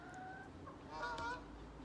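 A farm bird, likely a goose or fowl, gives a few faint honking squawks close by on a backyard farm with a hen house, short harsh calls in a quiet setting.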